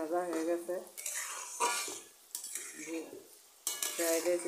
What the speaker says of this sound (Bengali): সবজিটা প্রায় ভাজা হয়ে গেছে